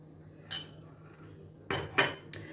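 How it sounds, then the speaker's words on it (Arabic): A few sharp clinks of a utensil against a bowl while mixing plain yogurt into a cream, one early and a quick cluster near the end, with quiet pauses between. "غادي نخلط هاد المكونات جيدا حتى نحصل على واحد الكريمه"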